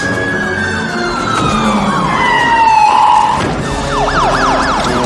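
An ambulance siren wails loud and close in a film chase, with a long falling tone turning into a rapid yelp pattern, alone without talk.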